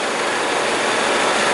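A 2003 Mazda Protege engine idles with a misfire, giving a close, continuous rough engine rumble with no talking over it.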